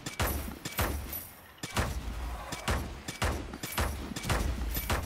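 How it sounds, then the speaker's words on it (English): Rapid volleys of gunfire from a Strange Brigade shootout inside the Great Pyramid, loud sharp bursts repeating roughly every half second with booming thuds between, close and dense for several seconds. "Oh my, what superb shooting!"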